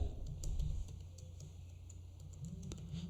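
Someone types a formula into a spreadsheet on a computer keyboard, producing faint, quiet key clicks in short irregular bursts with brief pauses between them.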